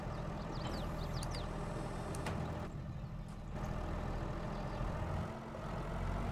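Tractor engine in Farming Simulator 22, a steady low rumbling drone that runs throughout, fairly loud and unbroken, with a brief dip in the upper noise midway and a few faint high clicks.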